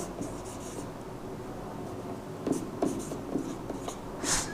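Pen writing out a math solution by hand on paper, a steady scratchy stroke sound with short taps and bursts, close and fairly quiet, with no talk.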